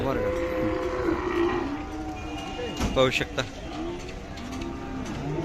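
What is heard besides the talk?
Khillar cow at cattle market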